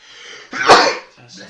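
A single sharp sneeze bursts out close and loud, preceded and followed by people talking nearby.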